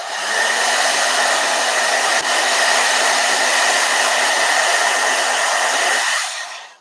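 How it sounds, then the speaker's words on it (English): A blow dryer is used to dry gouache paint on a drawing, a loud, steady whirring hiss with an even tone throughout that cuts off near the end, with no speech. "Blow dryer."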